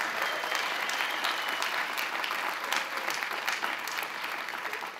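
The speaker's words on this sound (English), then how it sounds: "Let's give him a round of applause." Outdoor crowd applause at the AIDS Walk New York kickoff rally, a sustained dense clapping from a large gathering that stays even and fairly distant for the whole stretch.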